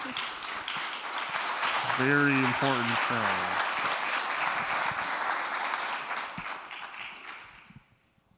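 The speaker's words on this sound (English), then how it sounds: "Give another round of applause for an amazing," Sustained audience applause after a film screening about American Indian urban migration, with a voice speaking briefly over it, the clapping fading out near the end.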